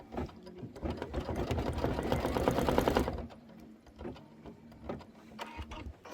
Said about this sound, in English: just hit start again. It's going to do those chenille stitches